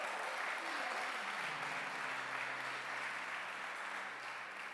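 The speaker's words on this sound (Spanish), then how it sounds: "Denle un aplauso a Jesús." A church congregation applauds during a sermon, a dense, sustained wash of clapping with a voice briefly heard underneath as it carries on.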